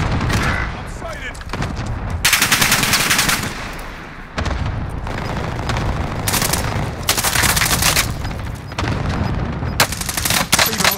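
Gunfire in Call of Duty Warzone comes as loud rapid machine-gun bursts and shots in repeated volleys, broken by short pauses, with game voice lines mixed in.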